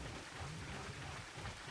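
Rain falls steadily with low rumbling thunder in a Monster Hunter 2 game scene, a dense, quiet wash of sound with no talk.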